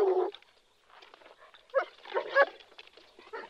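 Several dogs bark in a film scene, with irregular, overlapping barks in short bursts, some near and loud and others fainter, against a quiet background.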